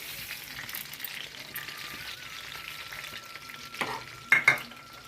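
Chana dal and skinned urad dal fry in oil already used for drumsticks for a drumstick pickle, a soft steady sizzle broken by a few stirring scrapes and two sharp metallic clinks near the end.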